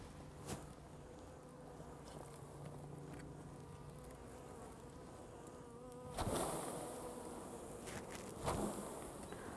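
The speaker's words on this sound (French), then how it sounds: "Donc, les abeilles sont calmes." A steady, soft drone of many honey bees buzzing nearby while a bee package is installed into a Warré hive, with a few louder passes as individual bees fly close, and occasional handling knocks.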